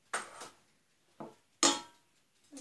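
Metal utensil scraping and clinking against a cooking pot while a fig dessert mixture is stirred, four separate short strokes with pauses between, close and fairly quiet, no talking.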